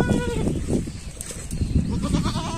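A goat with a bloated belly after a deworming tablet, bleating in a few strained, wavering calls up close on a riverbank grazing spot.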